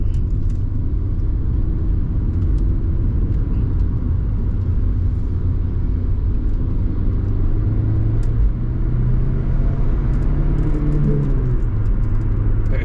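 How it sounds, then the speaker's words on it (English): A Rover 25 1.4 hatchback circles a roundabout in traffic, heard from inside as a steady low engine drone and road rumble with a slight rise in engine pitch toward the end. "we come into a roundabout and that's always a good, good test of a car, chucking it round, see what it does"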